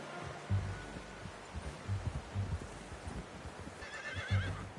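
A horse in the video game Red Dead Redemption 2 gives a whinny late on, over repeated low snorts and hoof thuds that come and go throughout.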